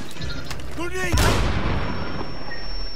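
A grenade bursts with a heavy, close boom in the tactical shooter Rainbow Six Siege, preceded by brief chirps and clatter and trailing into a rumbling debris wash under a steady high tone.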